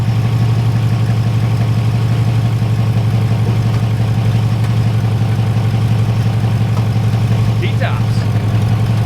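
An Oldsmobile Cutlass with T-tops, left abandoned for 15 years, idles with a steady, loud, low-pitched engine rumble right up close, never changing for the whole stretch.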